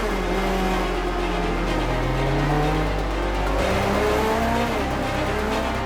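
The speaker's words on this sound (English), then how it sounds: "The slightest touch on the throttle and it revs up real sharp." A Formula 1 car's engine roars continuously at close range, loud and dense, its pitch sweeping up and down with sharp throttle blips and a shift in tone partway through.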